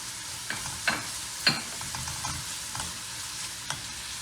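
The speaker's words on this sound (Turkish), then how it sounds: "Şöyle rengi değişene kadar, biraz yumuşayana kadar soğanlarımı kavuracağım." Chopped onions and green pepper sautéing in a pan, a quiet continuous sizzle broken by a few spoon-stirring knocks and scrapes, close and soft, no speech.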